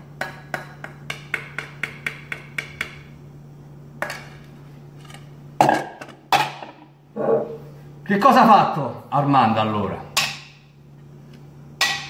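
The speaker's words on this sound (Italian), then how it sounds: "Ha bucherellato il tappo." A quick run of about ten sharp metallic taps as holes are punched through a jar lid over sourdough starter, followed by clinks and a voice speaking.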